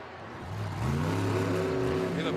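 A monster truck engine at a Monster Jam freestyle show in an Atlanta arena revs and climbs under throttle, a deep rising roar with strong rhythmic harmonics, loud and building over a couple of seconds.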